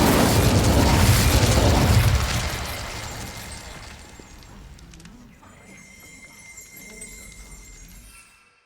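The Incendio fire spell from Hogwarts Legacy is cast as a loud, roaring burst of flame that fades over a couple of seconds, leaving a quieter, lingering crackle and hum.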